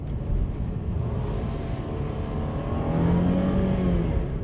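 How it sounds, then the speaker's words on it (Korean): A Mercedes-Benz E-Class four-cylinder engine revs up steadily to around 4,000–5,000 RPM, its smooth whine rising and holding near the end. "제가 일부러 RPM을 이렇게 띄워볼게요"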